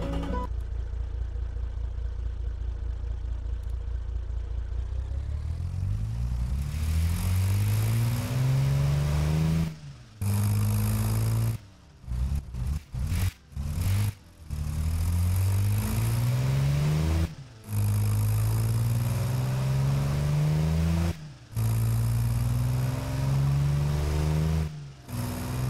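A big diesel engine built in the car-design game Automation idles, then revs repeatedly, its deep rumbling note climbing through each run-up before cutting off abruptly, in a series of close, loud rev cycles with brief silent breaks.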